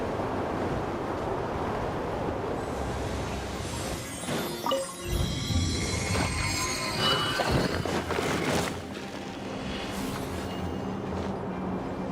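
A wind current in Genshin Impact, a steady broad rushing whoosh of air that rises and swells toward the middle, with airy whistling and faint shimmering tones layered through it.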